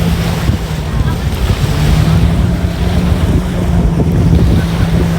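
Wind and surf at JBR beach in Dubai, a continuous loud roar of gusts buffeting the microphone over the wash of waves, steady throughout.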